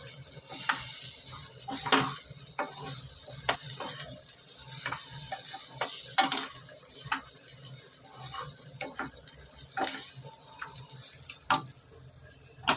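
Hot oil sizzles steadily as dal tempering fries, with scattered sharp clicks and scrapes of a spoon stirring in the pan. No one speaks.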